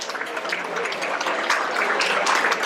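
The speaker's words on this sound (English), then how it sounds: "Let's give them a nice big hand." Dinner guests applaud honorees at a benefit dinner in a Great Neck banquet hall, a steady, dense wash of clapping that holds evenly for a few seconds, with faint murmurs mixed in.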